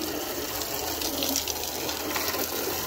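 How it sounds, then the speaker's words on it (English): Steady broadband rush of water from a hose spraying and splattering during gutter cleaning, loud and continuous with no talking. "The water's splattering my phone and I'm about to shut it off."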